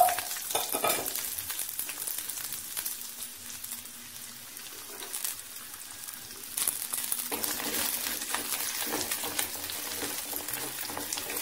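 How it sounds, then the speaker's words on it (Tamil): Onions sautéing in hot oil in a pan for Karaikudi-style kara kuzhambu, a steady crackling sizzle with stirring scrapes throughout, moderately close and without talk. "முதல்ல வெங்காயத்தை வதக்கிடுவோம்"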